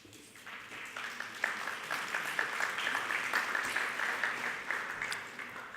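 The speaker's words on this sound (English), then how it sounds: "I apologize for letting you applaud, but these are national awards, so we can applaud for these" An audience at a student awards banquet claps for a national graduate fellowship award, dense even applause lasting several seconds with no one speaking over it.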